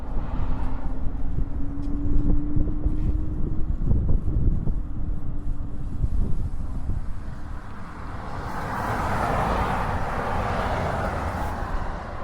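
Cold wind rushes over a rider on an 80-volt Onyx RCR electric motorcycle, a loud continuous buffeting roar that shifts and swells toward the end, with no talking.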